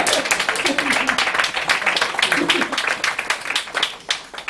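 Dense applause and clapping fill a crowded slam poetry night at a Montréal bar, a steady wash of many hands with cheering voices mixed in throughout.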